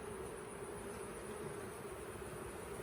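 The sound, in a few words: honey bees buzzing on a hive frame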